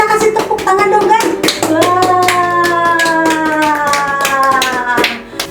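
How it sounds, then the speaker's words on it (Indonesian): Children clapping their hands during a church worship service for kids, a loud burst of quick, uneven claps over sustained music tones, with faint voices underneath. "Kita kasih tepuk tangan dong"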